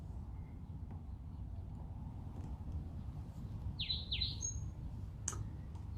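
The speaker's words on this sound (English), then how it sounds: "Right when we started oming, the birds started chirping." Outdoor birds chirp faintly over a steady low background hum, with a couple of quick descending chirps near the middle and a sharp single call shortly after.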